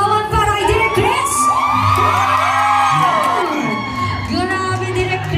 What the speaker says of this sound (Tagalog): Isa pang masigabang palakpakan at sigawan para kay Direk Chris.